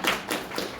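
Brief scattered hand claps from an audience welcoming a speaker to a teen motivational talk, a few sharp taps over about a second, moderately close and fairly quiet.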